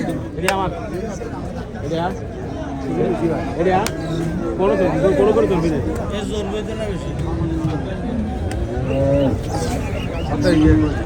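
Beef cattle at a busy village cattle market moo repeatedly and loudly up close, overlapping one another against a steady crowd babble with people talking throughout.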